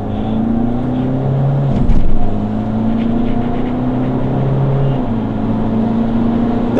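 A Citroen Berlingo XTR pulls away hard from a standstill on cold, wet asphalt with some wheelspin. Its engine drones loud and close, the pitch climbing, then dropping at two gear changes.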